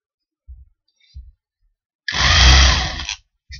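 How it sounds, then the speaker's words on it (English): Countersink bit cutting recesses for screw heads in wooden cupboard supports: a loud grinding drill burst of about a second, preceded by two short low thumps and followed by a brief restart. "We use this kind of drill"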